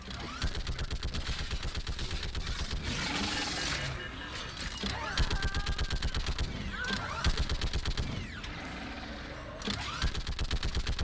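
Rapid automatic gunfire in Mass Effect 3 during a fight on a ship's bridge: long bursts of closely spaced shots, loud and near, broken by brief pauses and chaotic combat effects.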